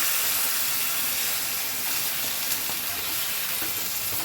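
Water hits a hot pan of vegetables for shukto, bringing a loud, continuous broadband hiss and sizzle that stays steady throughout with no talking.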